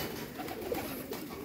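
Pigeons of the American Giant Runt breed cooing on a pigeon farm, soft low coos repeating through steady faint background noise, with no one speaking.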